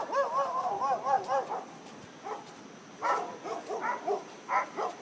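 Dogs bark and yip in short bursts near a private property during Hurricane Irene on Center Street, Montague, with pauses between volleys and faint background noise.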